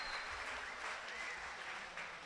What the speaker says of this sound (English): Give yourself one more big round of applause for the work that you've done here in the last 2 days.